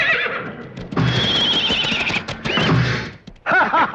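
A horse used for short paid rides neighs in loud, close whinnies, one long call followed by another after a brief pause, with a few thumps and knocks mixed in.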